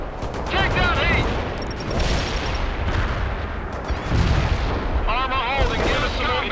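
Artillery fire in the World in Conflict video game: repeated heavy booms and rumbling explosions roll continuously and loudly, with radio-style voices of units speaking over the barrage.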